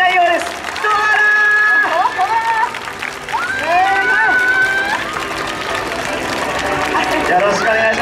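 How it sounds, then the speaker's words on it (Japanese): Crowd at a baseball stadium applauding and cheering as the Chunichi Dragons mascot Doala is welcomed, loud and continuous, with an announcer talking over it. "大きな拍手で迎えましょう"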